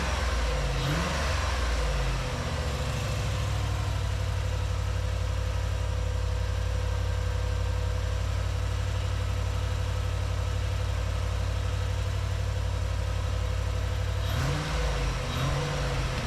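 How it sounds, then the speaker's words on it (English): A boosted V8 engine in a classic Range Rover runs steadily in a workshop, a loud, continuous low rumble with a slight rev change near the start and again near the end. "started listening to the engine, and I found out what the little noise was"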